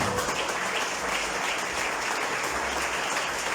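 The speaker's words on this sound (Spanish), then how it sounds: "Dale fuerte palmas entonces." A church congregation claps hard for a pastor's sermon, a dense and continuous wash of applause that holds steady at full loudness throughout, with no voices rising above it.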